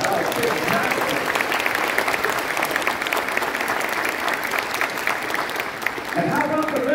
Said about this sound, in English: I think she deserves one more round of applause.